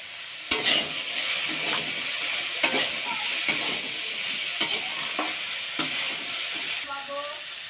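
Vegetables with green chili and turmeric are stirred in a hot pan for shukto, a steady frying sizzle broken by several sharp utensil scrapes and knocks against the pan, close and fairly loud with no talking.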